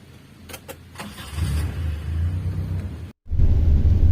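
A Daihatsu Feroza SUV engine idles and revs with a deep, throaty rumble, preceded by a few clicks, cutting out briefly before roaring back loud and close.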